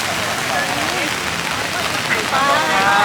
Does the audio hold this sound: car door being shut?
no